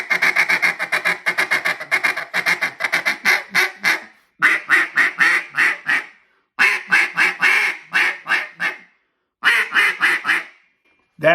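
Loud, sharp duck feed call blown in rapid rhythmic bursts of quacking notes, several runs separated by brief pauses, close and clear with no talk over it.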